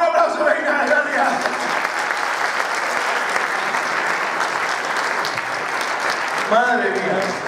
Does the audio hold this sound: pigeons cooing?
no